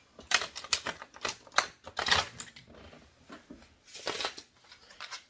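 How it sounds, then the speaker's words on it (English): A tarot deck on flexible cardstock bridge shuffled up close: bursts of rapid fluttering riffles and soft card slaps in several quick passes, with no talk. "it feels like a normal card where I can just do a bridge."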